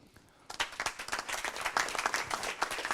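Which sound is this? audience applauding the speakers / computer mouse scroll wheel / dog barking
audience applauding the speakers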